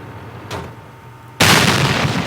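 A tank cannon in a game fires one sudden, loud broadband blast that cuts in sharply and rumbles on. A fainter, muffled thump comes just before it.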